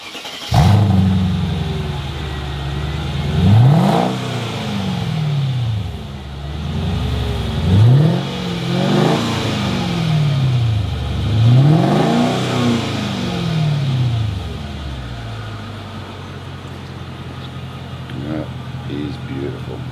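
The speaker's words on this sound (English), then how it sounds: "got the exhaust, so we might as well listen to how it sounds" The exhaust of a Mark V Mercedes-Benz SL500 is revved repeatedly, with several rising and falling engine sweeps, loud and close, before it settles to idle, with people talking over it.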